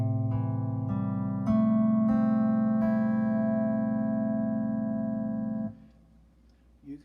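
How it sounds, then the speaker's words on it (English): An 8-string C6 lap steel guitar tuned with a low A on the bottom, its strings plucked one after another into a ringing sustained chord that cuts off near the end. "In my case, I set it up with an A down here on the bottom, so it'd sound like this."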